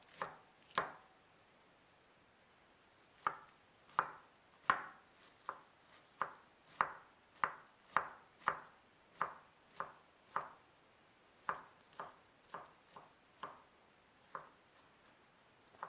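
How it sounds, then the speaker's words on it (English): Cabbage is cut into thin slices with a knife on a board, sharp distinct chops spaced out irregularly, about twenty strokes, close and clear against a quiet background. "It really doesn't matter how you cut it because it has to cut it into thin, small slices."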